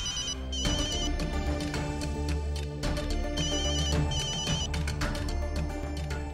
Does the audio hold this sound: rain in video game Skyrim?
no